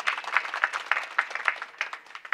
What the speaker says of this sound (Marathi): याच्याबद्दल एकदा टाळी वाजवा